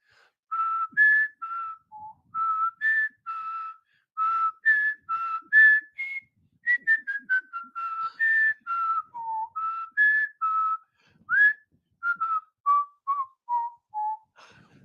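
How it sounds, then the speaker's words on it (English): Whistle played as a lively tune, a steady run of short, clear, bright notes rising and falling with brief gaps between phrases, close and alone with no talk. "You so gotta change keys on that whistle"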